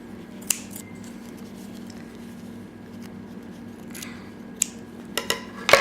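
Scissors snip the yarn ends on a crochet granny square, a few sharp close cuts near the start and a quick cluster toward the end over a steady low hum.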